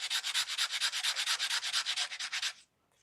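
An emery board scrapes an antenna wire in quick, rhythmic back-and-forth strokes, about a dozen close rasping rubs in a steady run that stop abruptly, with no talking.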